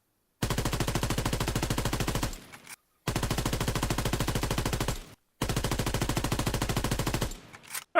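An M1941 Johnson rifle fires in Call of Duty WWII in three long, loud, rapid bursts of steady repeated shots, each ending in a short echoing tail, with brief silences between and no voices.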